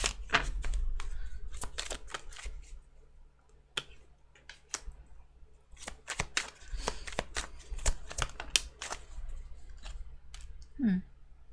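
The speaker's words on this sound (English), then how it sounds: "You see me shuffle, right?" Tarot cards being shuffled by hand, a long run of crisp riffling clicks and soft slaps that come in uneven bursts, close by and fairly quiet, with no talking over them.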